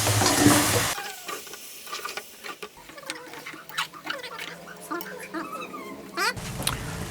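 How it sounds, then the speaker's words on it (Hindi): Water poured into a pan of frying spiced potatoes gives a brief loud splash and hiss, then settles into soft, uneven bubbling and sizzling with scattered small pops. "थोड़ा सा पानी डाल दिया।"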